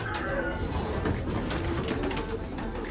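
Racing pigeons coo in a loft, a soft repeated throaty murmur from close birds with rustling and light handling noises around them.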